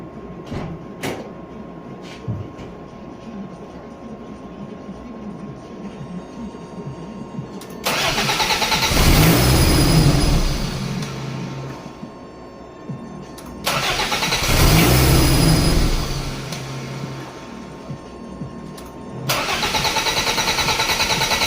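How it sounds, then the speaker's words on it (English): A Toyota MR2 under repair is cranked twice, each starter attempt a loud whirring burst lasting several seconds before cutting off, with quiet gaps between tries and a third crank beginning at the end. "About to try and kick this car over"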